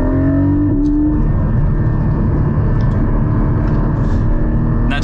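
A Porsche 718 Cayman GT4 with a PDK gearbox accelerates hard, its engine roaring loud and close with a rising pitch that drops sharply at a shift, then holds a dense, steady drone.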